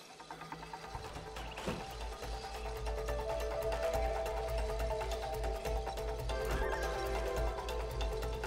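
A horse whinnies loudly over a steady, dense soundtrack in the video game It Takes Two, with hoofbeats clopping along beneath the call.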